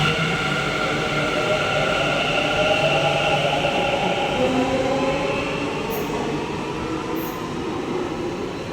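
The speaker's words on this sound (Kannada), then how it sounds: "ನಮ್ಮ ಮನೆಯಿಂದ ಮೆಟ್ರೋ ಸ್ಟೇಷನಿಂದ ಮೆಟ್ರೋಗೆ ಹೊರಟ್ವಿ ನಾವು." A metro train ride in Bengaluru heading to Chikkapete station: a continuous loud rumble and whoosh of the carriage in motion, steady throughout, with a couple of faint high electronic tones near the end.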